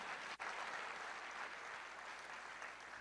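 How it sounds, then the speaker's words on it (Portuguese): Faint applause from a church congregation during a sermon, a soft, steady wash of clapping heard at a distance for a few seconds. "dar uma salva de palmas para o Senhor"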